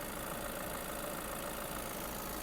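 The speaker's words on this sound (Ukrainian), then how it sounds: "Моторчик працює гарно, демпер не стукає, підтікань немає, антифриз в нормі." A 2019 Volkswagen T6 Long with DSG gearbox idles steadily, its engine giving a continuous, even mid-to-low hum with no knocking, recorded close and alone.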